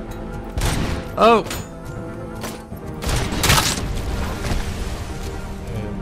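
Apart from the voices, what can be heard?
grenade explosion in video game RoboCop: Rogue City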